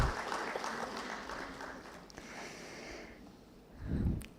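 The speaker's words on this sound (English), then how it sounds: "I request a big round of applause to welcome our distinguished guests for the special addresses." Audience applause welcoming distinguished guests at a national business conference, a broad clapping wash that thins out midway, followed by a brief low rumble or handling noise near the end.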